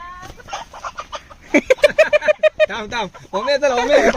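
Country chickens on a village poultry farm cluck loudly and close by in rapid bursts, a chattering flock growing busier toward the end.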